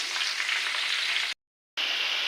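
Onion paste frying in a pan hisses with a loud, even, close sizzle that cuts out briefly to silence and then resumes.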